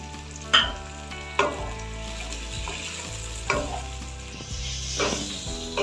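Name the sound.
frying chopped garlic, ginger and chilli with capsicum and onion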